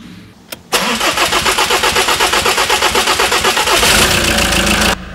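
A high-mileage car with 320K miles, a blocked DPF and limited power cranks after a single click and catches at once, settling into a loud, close, steadily pulsing idle that runs on without any talking.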